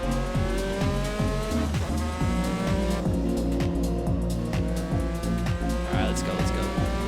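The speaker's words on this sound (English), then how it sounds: "Tire screeching." Race car in a sports car racing game, engine droning loud and near with repeated gear-shift sweeps, tires squealing and skidding over the engine noise.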